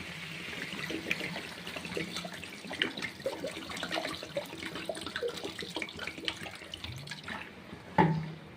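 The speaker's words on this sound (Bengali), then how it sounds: "এবার জল দেব জল দিয়ে ঢেকে দেব" Water poured into a pot of chicken curry, a continuous trickling pour with small splashes, faint and close, ending with a short clunk.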